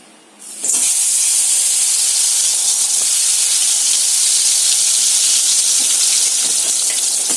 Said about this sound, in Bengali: এখন বেগুনটা ভেজে ফেলি